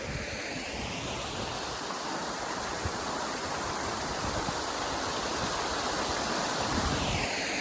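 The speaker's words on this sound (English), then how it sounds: "And now we're chasing waterfalls." A waterfall on the Isle of Skye in Scotland pours in a dense, steady roar of rushing water, loud and close, with no voices over it.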